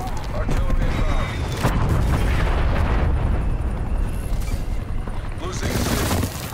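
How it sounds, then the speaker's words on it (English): Artillery strike explosions in Call of Duty Black Ops Cold War, a dense, continuous rumble of booms and bursts that stays loud throughout, with voice announcements layered over the barrage. "Artillery targeting detected. Start. Artillery inbound."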